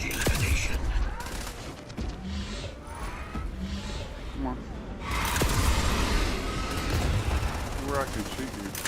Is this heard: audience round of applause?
no